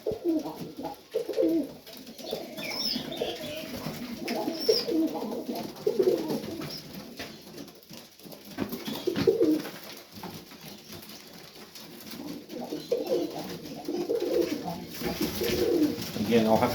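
Pigeons, including young highflyers and Serbians, coo repeatedly in a loft, soft throaty calls rising and falling close by, with a person talking intermittently among the birds.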